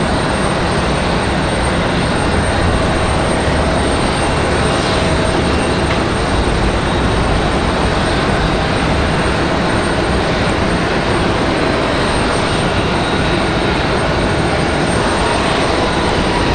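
A Southwest Airlines airliner, flight 1904 from St. Louis, at Raleigh-Durham International Airport, its engines giving a steady, loud broadband roar that holds throughout with no voices.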